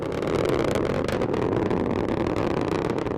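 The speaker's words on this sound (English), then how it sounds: "Strap-on boosters look good in the full thrust mode." Rocket carrying the Parker Solar Probe climbing with strap-on boosters at full thrust, a loud, steady, broadband roar with crackling texture throughout, no voices.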